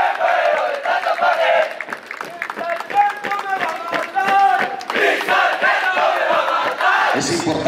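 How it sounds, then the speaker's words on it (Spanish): A large crowd at a military institute's 50th anniversary ceremony, honoring the cadets of a drill squad, applauds loudly and cheers throughout, with shouts rising over the steady clapping. "Más fuerte los aplausos para el esfuerzo de nuestros caballeros y señoritas"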